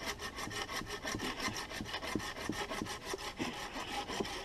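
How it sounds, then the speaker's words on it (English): A small handsaw cuts through wood in steady, quick back-and-forth strokes, close and fairly loud, with a rasping bite on each pass and nothing else heard. "I can go faster with the little handsaw."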